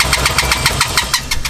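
BMW E30 engine cranking and struggling to catch, a loud, close, rapid rhythmic chugging of the starter turning the engine over without settling into a run.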